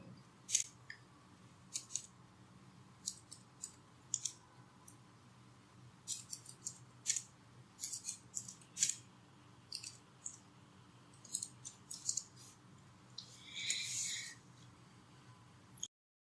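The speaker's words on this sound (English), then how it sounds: "I'm going to start typing, and I'm going to type any names that I wish to type." Someone types names on a computer keyboard into spreadsheet cells, making scattered, quiet key clicks in irregular bursts over a faint background hum, with a brief rustle near the end.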